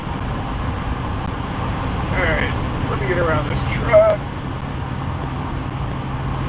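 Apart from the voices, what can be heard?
road noise inside a driving car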